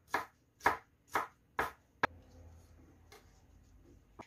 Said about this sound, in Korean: 먼저 채소 이렇게 해서 다져주세요